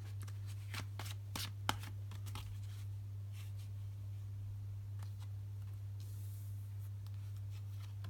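Tarot cards being shuffled by hand, a quiet series of crisp riffles and taps in the first half, then softer handling over a steady low electrical hum.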